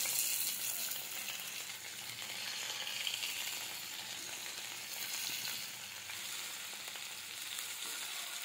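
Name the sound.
shashlik frying in oil in a wok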